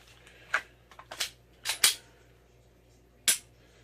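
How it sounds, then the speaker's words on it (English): Pistol during dry fire practice, with the slide release being hit: a handful of sharp, close metallic clicks and clacks spaced irregularly, the loudest snapping near the middle and one more after a pause. "And I got to hit the slide release."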